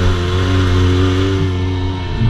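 A dual sport motorcycle's engine revs steadily up close, holding a strong, even drone with a slight dip and rise near the end.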